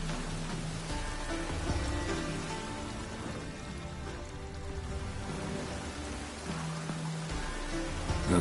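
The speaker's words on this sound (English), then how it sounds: "Looks like rain." Steady rain falls in a PS4 video game scene, a continuous soft hiss of drops on surfaces, quiet and even throughout with faint low rumbles underneath.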